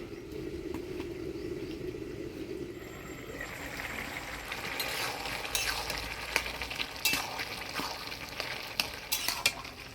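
A bottle gourd curry with fried lentil dumplings cooks in a pan, a low bubbling simmer giving way to a broader sizzle and hiss, with stirring scrapes and a few clinks of utensils.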